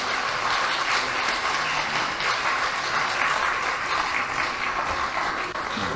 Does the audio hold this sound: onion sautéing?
no